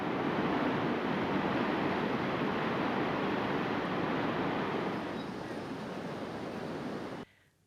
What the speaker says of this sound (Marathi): फरशी पुलावरून मोठ्या प्रमाणात पाणी वाहत आहे